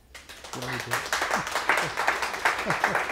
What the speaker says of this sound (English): So please give a big round of applause for Christian.